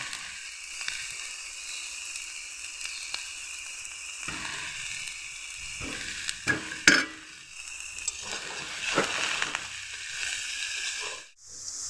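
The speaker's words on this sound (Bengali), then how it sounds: "বেগুন একসঙ্গে মিশিয়ে নিয়ে ভালোভাবে কষিয়ে নেব" Cauliflower, potato and eggplant sizzle loudly in a pan while being stir-fried together. Continuous frying hiss mixes with scraping, stirring strokes close by, and no one speaks.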